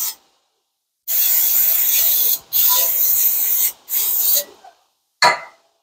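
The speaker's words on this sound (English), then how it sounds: "just spray on brake cleaner" Three bursts of brake cleaner aerosol spray hiss loudly at a car's brake backing plate, each about a second long with short pauses between, then a brief final puff after a gap.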